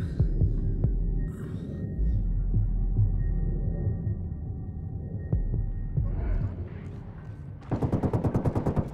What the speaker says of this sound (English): Yeah, I'm opening fire.